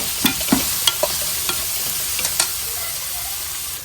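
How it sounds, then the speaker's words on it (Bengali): Ginger and garlic stirred in a hot frying pan: a steady sizzle broken by several sharp scraping clinks of a spoon against the pan, close and clear, no voices. "দিয়ে আমি একটু নাড়াচাড়া করে দিব।"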